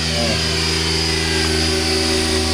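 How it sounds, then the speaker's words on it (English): A radio-controlled helicopter's small motor whines steadily at close range at the Apple Valley air show, a constant high buzzing drone with no pauses and no voices. "We're going to watch the radio controlled helicopter again."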